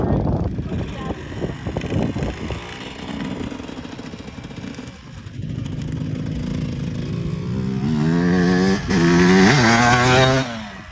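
A motorcycle brakes with both front and rear brakes, its engine note dropping and then revving in rising tonal sweeps near the end. The sound is moderately close, with some background noise.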